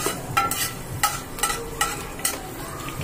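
Thinly sliced garlic frying in hot oil for a creamy pasta, a continuous close sizzle broken by regular spatula stirs and scrapes about every half second, no voices.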